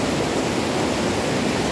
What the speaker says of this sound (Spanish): Les quería mostrar toda esta hermosa cascada aquí.